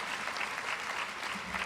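Steady, dense applause from an audience at a high school athletic banquet, a continuous wash of clapping that holds at an even level throughout.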